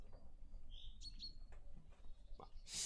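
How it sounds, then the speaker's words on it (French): Small birds chirping and tweeting at sunrise, a few short calls scattered over quiet ambient background, faint to moderate, with no talking. "On écoute les oiseaux qui piaillent"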